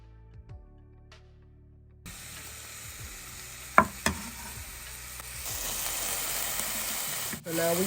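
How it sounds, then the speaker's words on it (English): Green peppers sautéing in a pan with a steady sizzle and hiss that begins suddenly, a couple of sharp clatters of stirring in the middle, and the frying growing louder and brighter toward the end. "now we're adding our green peppers to this pan, and we're gonna saute this baby"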